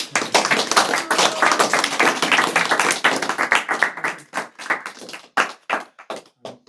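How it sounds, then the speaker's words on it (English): An audience gives a round of applause after a devotional talk and music performance at an evening gathering: dense, steady clapping from many hands that thins toward the end into scattered individual claps. "Anupama, let's give a round of applause"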